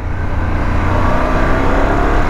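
A 2021 Harley-Davidson Pan America motorcycle engine revs steadily while riding, a loud, continuous near roar with a constant low rumble and no voices over it.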